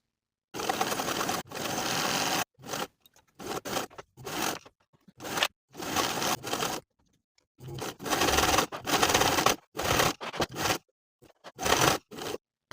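A sewing machine stitches around sweater armholes in short, stop-start bursts of rapid needle chatter, up close, with frequent brief pauses between runs.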